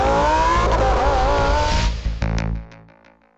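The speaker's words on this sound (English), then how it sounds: "I absolutely love that power of that engine, and seeing Alexa working with Lamborghini is so fun" A Lamborghini engine revs hard and loud up close, its pitch rising and wavering before it cuts off into a few quick blips and fades out.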